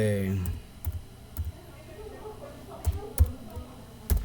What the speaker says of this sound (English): I'm going to type a sample pin